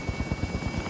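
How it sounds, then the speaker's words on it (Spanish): A helicopter in a Call of Duty battle royale match gives a brief burst of rapid, regular rotor thumps, steady and moderately close, with no talking. "Helicóptero en posición, bolsa lista para el depósito"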